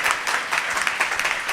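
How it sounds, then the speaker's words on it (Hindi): A church congregation claps together in praise, a dense, even burst of applause filling the short stretch at close range without voices over it. "ताली बजाइए प्रभु की महिमा के लिए।"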